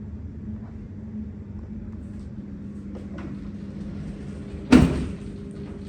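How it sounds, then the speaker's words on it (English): A hotel bathroom sliding door at the Sofitel Kuala Lumpur Damansara is handled against a low room hum, with faint rolling sounds and one sharp knock or bump as it moves. "It comes with sliding doors"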